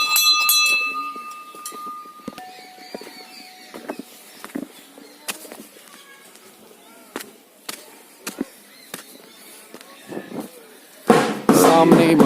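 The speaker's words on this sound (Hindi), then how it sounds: "घंटी" Metal temple bells clang in scattered, irregular strikes, some ringing out briefly, with a loud clattering burst near the end, at a Hindu temple in Dehradun.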